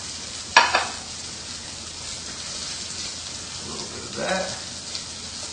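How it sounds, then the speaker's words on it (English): Lamb chops sear in a dry pan with a steady low sizzle, marked by a sharp clatter near the start and a swell of louder sizzling later; a voice speaks briefly. "And then you have seared lamb chops."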